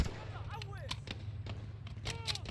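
A gun fires in Call of Duty Modern Warfare, sharp faint shots in an irregular series that mix with in-game voices and other effects.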